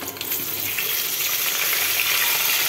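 Eggplant and potato pieces frying in hot oil after fish in a home kitchen, a close, loud, steady sizzle with crackling that carries on without pause and no speech.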